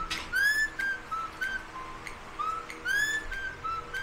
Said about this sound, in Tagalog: May pasipol-sipol pa.